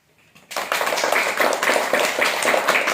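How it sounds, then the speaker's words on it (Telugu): Children in a classroom clapping together after singing a Telugu rhyme, a sudden burst of brisk, dense applause that starts after a quiet half second and holds steady and loud, with no talk. "Very good claps."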